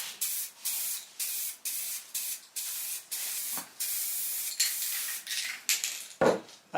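A spray can lays satin black paint onto a heavy chain cobra lamp in about a dozen short, even hissing bursts separated by brief pauses, close and fairly quiet, with no voices.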